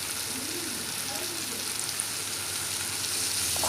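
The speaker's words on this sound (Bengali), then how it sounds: "তাতে দিয়ে দিলাম হলুদ আর আদা দিয়ে এটাকে ভালো করে ভেজে নিচ্ছি" Onions fry with turmeric and ginger in a pan, giving a steady soft sizzle that runs through the whole short stretch, with light stirring and a faint voice in the background.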